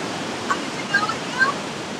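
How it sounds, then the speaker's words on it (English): Ban Gioc Waterfall roars as a steady, dense wash of falling water, close and constant throughout, with a few faint chirps over it. "There's the waterfall."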